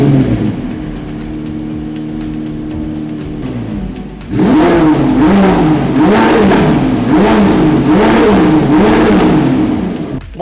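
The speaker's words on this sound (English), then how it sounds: "I can talk about the exhaust system all I want, but trust me, it's far better to do this." McLaren 765LT sits at a steady idle before its exhaust bursts into a loud series of rhythmic revs, each rising and falling in quick succession, close and dominant with no talking.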